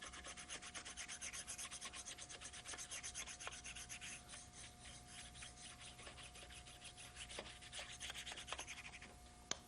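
A handheld baren is rubbed with firm, even pressure over paper laid on a carved wood block to pull an orca print, giving a steady, close rasping scrub in repeated strokes with a few sharp ticks near the end.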